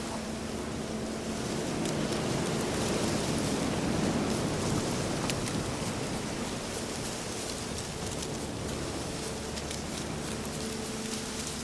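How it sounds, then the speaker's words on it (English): Steady rain pours in The Witcher 3: Wild Hunt, a dense, continuous hiss of falling water with a low rumbling undertone, unbroken and fairly loud throughout. "Looks like rain."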